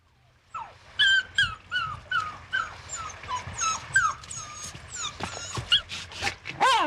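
A dog whimpers and howls in a long run of rising and falling whines and yelps, close and loud, with no other sound.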